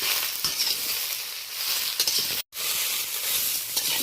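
Ridge gourd frying with a little turmeric in a pan, a steady sizzle with scraping stirs throughout and one brief dropout midway, close and alone without talk.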